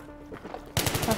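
A PDW firing in Battlefield 3 opens up after a quiet moment, a sudden fast burst of several sharp, close shots in quick succession.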